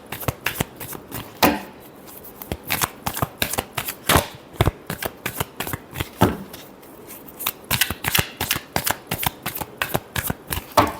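Tarot cards are shuffled by hand in a steady run of crisp riffling snaps and soft slaps, close and clear, pausing briefly around the middle, with no talking.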